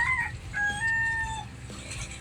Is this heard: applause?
no